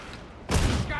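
A sudden loud burst of gunfire from enemy gunners behind walls in Warhammer 40,000: Darktide cuts in after a quieter moment and rattles on briefly.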